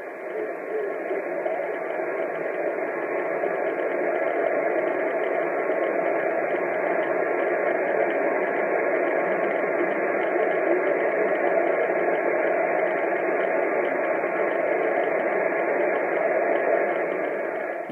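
Steady, dense shortwave radio static around 4885 kHz hisses continuously, a band-limited rushing noise with no pauses, fairly loud throughout.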